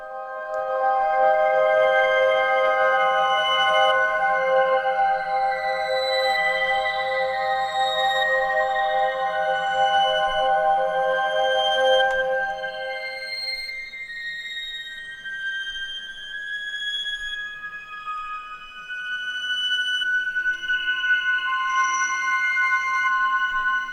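Octave Echoes, a sci-fi preset from a free synth plugin, plays as a sustained, haunting tone of layered echoing pitches that rise and shift, loud and continuous with no talking.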